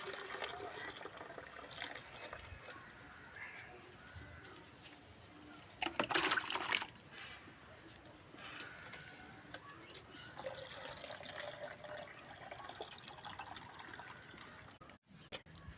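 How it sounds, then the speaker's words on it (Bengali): Water is poured into a bottle set beside a bottle gourd plant to keep the soil moist. A soft, continuous trickle and splash is heard, with one brief louder gush midway. "বোতলের মধ্যেও এইভাবে জল দিয়ে দেবো"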